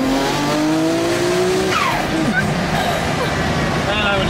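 A Nissan R34 GTR pulls hard under acceleration, its engine note rising steadily and loud, with tire noise and a shift partway through, while someone talks over it.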